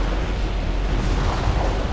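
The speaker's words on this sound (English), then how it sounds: "So the main thing we need to watch out for is that big cannon shot that's coming from the arms fort." Heavy cannon fire from a giant Arms Fort in the mech game Armored Core: For Answer, a dense, continuous rumbling boom that fills the short stretch at steady loudness, with no talking over it.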